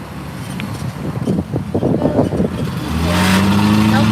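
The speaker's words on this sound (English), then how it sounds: "I'm gonna let these cars go out of the way." Cars passing close by on an outdoor street, a rising engine whoosh swelling toward the end over light wind and background noise.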